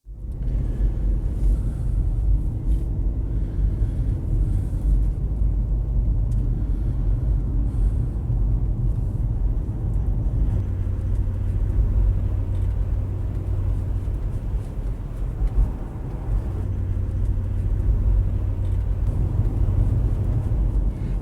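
A Jaguar XJ8 SE V8 X350 driving on a road on Dartmoor, heard from inside the car: a constant low engine drone and road rumble that holds steady, with slight rises and dips, and no voices.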